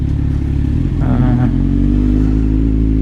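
Kawasaki Z1000R Edition 2020 motorcycle fitted with an SC Project mid-pipe exhaust, a loud, close engine rumble that idles, briefly blips higher, then settles back into a steady throb.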